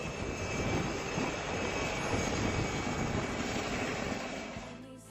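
A ship-based helicopter from an icebreaker in the Northwest Passage returns and settles onto the deck, its steady, loud engine and rotor roar filling the air with no voices, easing slightly near the end.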